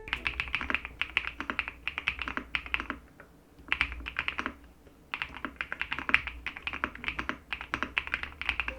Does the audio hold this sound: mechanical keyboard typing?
yes